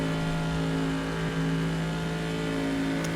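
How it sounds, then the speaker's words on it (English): Corvette V8 engine in the rFactor 2 racing game, a steady deep rumble with a strong low drone held at constant loudness, no voices. "I just love that V8 rumble"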